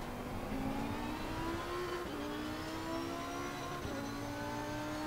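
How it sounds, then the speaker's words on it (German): An Audi Sixseven GT2 race car at full throttle on the Red Bull Ring, its engine note climbing steadily through the gears with brief dips at the upshifts, loud and continuous from inside the car. "Gehen wieder voll aufs Gas"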